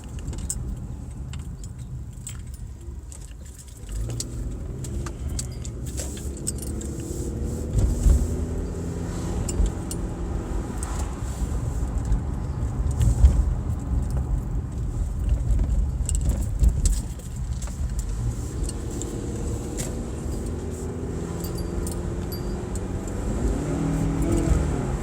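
Toyota truck on a test drive, engine droning inside the cab and rising with acceleration, a low steady rumble swelling in surges with some rattling, no talk.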